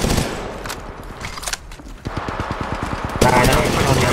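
Rapid automatic gunfire from Apex Legends Mobile, a quick stuttering string of shots with more bursts joining near the end, set among game noise while someone speaks Thai.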